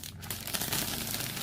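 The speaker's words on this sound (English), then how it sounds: "So it is in this plastic bag." A plastic bag wrapped around a Mezco toy box crinkles and rustles continuously up close, loud and dense for the whole stretch with no speech.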